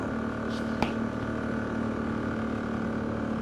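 Polaris diesel engine running without a turbo, held at a steady governed RPM, a continuous even drone with a faint brief click partway through and no speech.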